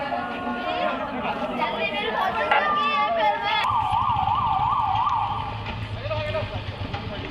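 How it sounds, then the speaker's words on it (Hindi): Wailing civil defence air raid siren sounding during a blackout mock drill, a steady rising-and-falling tone that swells in partway through, loud and close over crowd chatter and people talking. "सायरन बजते ही ब्लैक आउट यहाँ पर हो जाएगा।"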